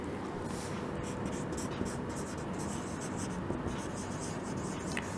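Pen scratching across paper while a machinery account entry is written out by hand, a steady soft scraping through the whole stretch with faint room tone and no clear speech.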